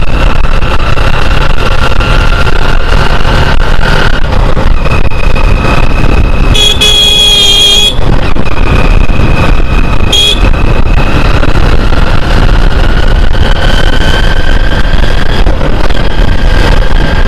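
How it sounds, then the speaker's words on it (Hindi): A 2016 Hero Ignitor BS3 motorcycle engine runs steadily through a mileage test, a loud, continuous close-up drone broken by a couple of brief, sharp high-pitched bursts. "और अभी भी चल रही है बाइक।"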